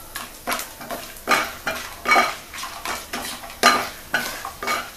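Whole nutmeg and star anise frying in hot oil in a pan, with a steady sizzle broken by repeated scraping stir strokes and light metal clinks, close and clear, no talking.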